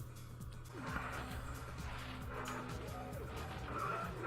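Tires skid and squeal in the Dreamcast car-combat game Vigilante 8: Second Offense, with sweeping pitch glides over a steady loud engine drone, continuous through the whole stretch.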